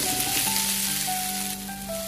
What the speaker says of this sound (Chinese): 一面煎香之后再翻过来煎另一面